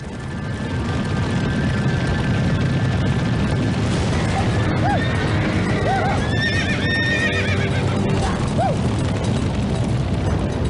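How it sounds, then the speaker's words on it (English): Horses whinny and neigh over a dense, continuous thunder of hooves as a herd of spooked longhorn cattle stampedes across the open plains on a cattle drive, loud and chaotic with several sharp calls rising above the rumble. "stampede."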